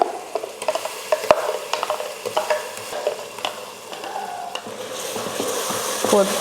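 Mint and coriander paste stirred into tomatoes frying in a pan for chicken biryani, a steady close sizzle under repeated scraping strokes of the spoon, with no talking.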